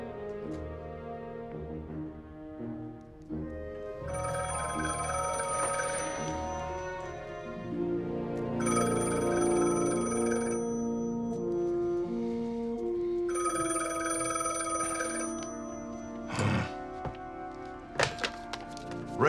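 Telephone ringing in repeated bursts of bright electronic bell tones, separated by short pauses, over soft low background music, with a couple of thuds near the end.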